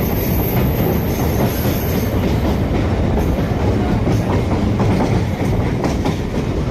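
A Bandel-Naihati local train rolls along the rails with a loud, continuous rumble, rhythmic wheel clatter and occasional squeals, heard close from on board.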